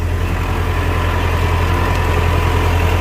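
A tractor engine runs steadily while being driven over clay field soil, a loud, close, unbroken low diesel drone with a constant throbbing rumble.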